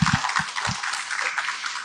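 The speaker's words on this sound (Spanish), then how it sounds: "a quien la recibimos con un fuerte aplauso" Audience applause welcoming a speaker at a forestry expo, a soft steady wash of many hands clapping with a few closer, distinct claps early on.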